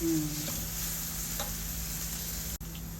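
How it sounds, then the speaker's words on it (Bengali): Steady, dense sizzling of onions frying in hot oil, continuous throughout with a faint tick or two and no talking. "এই যে আমাদের পেঁয়াজ ভাজা হয়ে গেছে একটু ভাজা হইছে লাল লাল হয়েছে"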